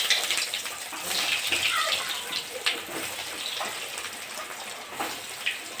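Banana flower chops frying in hot white oil in a wok, a steady bright crackling sizzle with scattered pops, fairly loud and continuous with no one talking.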